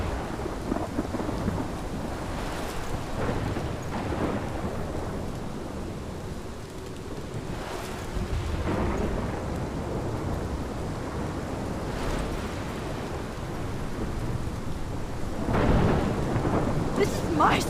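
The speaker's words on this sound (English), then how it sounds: "This is my storm." Rolling thunder and steady heavy rain fill a storm scene in the video game Life Is Strange, with deep rumbles swelling several times and a sharper crack near the end, no talk over it.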